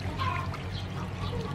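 Water is poured into a dish while cooking a seaweed salad with meat, a brief splashing, gurgling pour heard close, over faint background noise.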